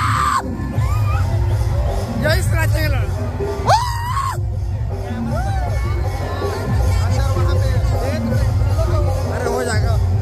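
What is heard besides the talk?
crowd cheering at a Dussehra festival orchestra show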